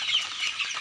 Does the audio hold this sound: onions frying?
no